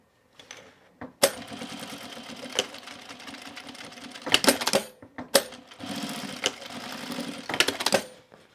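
A sewing machine runs in short bursts stitching down a narrow seam on a bag, loud and close, with sharp clicks and stops between runs of rapid mechanical chatter.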